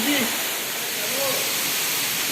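Water pouring down a waterfall at the Ellora Caves gives a steady, broad rushing hiss that fills the whole clip at even loudness, with no break.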